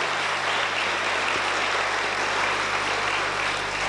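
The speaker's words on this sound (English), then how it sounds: "Oh, they love that applause." Audience applause at a midnight cabaret show at Butlins Barry Island in 1985, cheering a three-piece band; dense, steady clapping fills the room at an even level throughout, with no voices over it.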